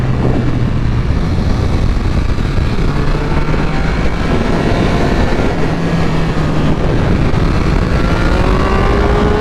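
A 2022 Triumph Speed Triple 1200 with a BT Moto ECU flash tune screams under hard acceleration, its loud, steady engine roar rising in pitch through a gear, heard close up with heavy wind rush and no talking.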